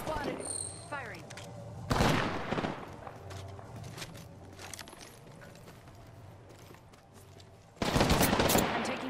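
Video game gunfire in a ranked online match, bursts of rapid shots cutting in near the start and again at the end with quieter clatter and mechanical noises between.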